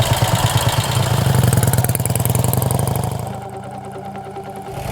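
A Vincent V-twin motorcycle engine runs loud and close with a rapid, throbbing pulse. About two-thirds of the way through it eases to a quieter, lower beat as the throttle closes.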